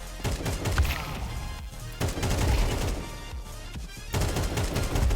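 Rapid, sustained gunfire in the video game Counter-Strike 2, with bursts of automatic rifle fire that keep cracking across most of the stretch and pause briefly twice, loud and dense in the foreground.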